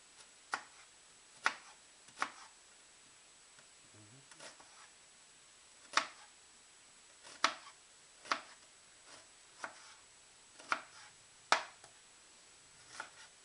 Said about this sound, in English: when I want to cut onions small